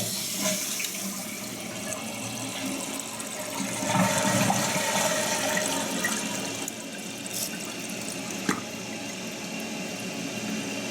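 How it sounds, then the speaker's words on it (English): A toilet flushes after its tank flapper has been replaced, giving a steady rushing of water, then a surge of swirling drain and tank refill that continues close by without speech. "So we're just going to give this a flush and see what happens."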